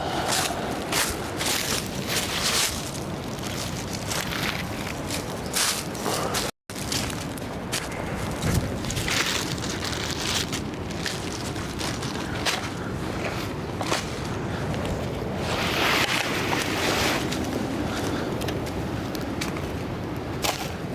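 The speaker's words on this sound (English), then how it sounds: "the wind is definitely pushing that down" Strong, steady wind blows against a tarp at an outdoor bushcraft camp, with continuous gusty rushing and flapping that stays loud and close, broken by one brief dropout.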